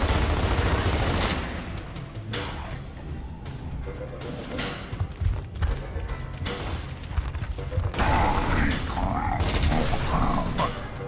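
Gunfire in Gears of War Ultimate Edition: repeated bursts of shots and mechanical clatter over about eleven seconds, dense and loud, with some voices mixed in.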